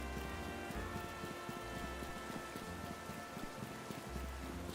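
Steady rain falls in a Pokémon game, a dense and continuous hiss of drops with a low rumble underneath, heard alone at moderate volume.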